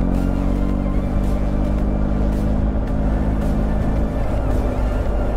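A 2021 BMW 1250 GS Adventure Rally motorcycle ridden at about 40 mph, a steady loud engine drone blended with heavy wind rush, with no talk.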